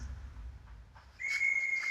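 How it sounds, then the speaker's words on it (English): A thin, high, steady whistle from a film soundtrack rises after a brief low rumble and holds eerily for the rest of the moment. "Love that whistle, it's so creepy."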